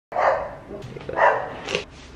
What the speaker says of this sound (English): I keep fucking up because these dogs keep barking